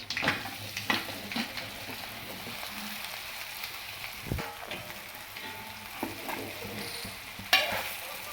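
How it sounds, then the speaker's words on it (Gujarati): Dudhi muthiya (bottle gourd dumplings) tossed in hot oil tempered with mustard seeds, sesame, curry leaves and asafoetida: soft close sizzling with scattered stirring clicks and a few sharper scrapes, fairly quiet throughout. "હવે આપણે મઠિયાનો વઘાર કરવાનો"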